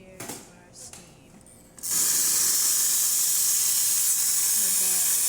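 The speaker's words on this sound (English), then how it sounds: "We've got nice strong steam" Steam wand of a Quick Mill Vetrano 2B Evo espresso machine, just repaired with a new heating element, bursts into a loud, steady, close hiss that continues strongly to the end after a few brief knocks and faint sounds.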